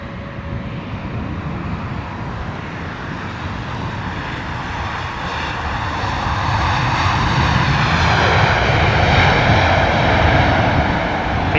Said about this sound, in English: Dreamliner coming in from Dallas.